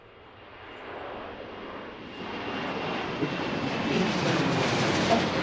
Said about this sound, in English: This will be Alaska 7 going to San Francisco, or Boeing 737-800.